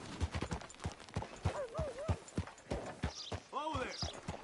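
Hooves clip-clop in a steady close rhythm as a horse walks in a video game, with spoken dialogue and a melodic sound layered over the hoofbeats.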